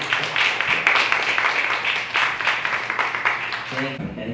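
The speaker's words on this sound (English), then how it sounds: "let's give a round of applause to all the fabulous students that performed amazing" Audience applause for student performers at a school show, a sustained patter of many hands clapping at moderate loudness, with a speaking voice over it before it fades out.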